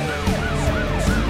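An ambulance siren wails in a children's cartoon song, its pitch sweeping up and down in quick repeated cycles over a bright musical backing.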